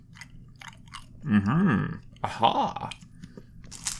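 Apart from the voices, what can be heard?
crunching on a sugary sesame seed cracker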